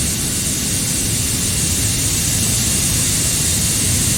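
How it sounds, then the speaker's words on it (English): An airplane takes off in the AirportSim airport simulation game, a loud, steady jet roar holding constant throughout with no pauses or voices over it. "Oh, that plane taking off."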